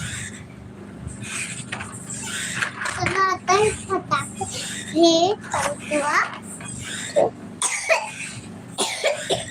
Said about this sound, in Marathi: खोकल मग चांगली खोकल